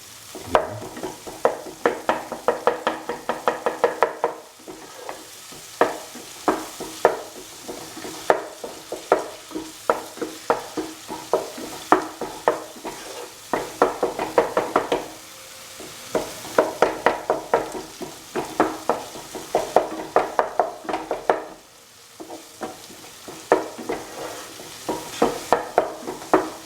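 Lentil dal ingredients with crushed tomato paste get stirred in a frying pan, a utensil scraping and knocking in steady bursts over a constant sizzle, close up and without talk.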